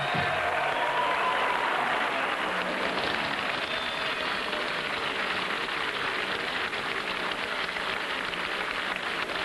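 A large outdoor crowd applauds and cheers at a 1975 snowmobile championship race in Eagle River, a continuous dense roar of clapping that stays loud throughout.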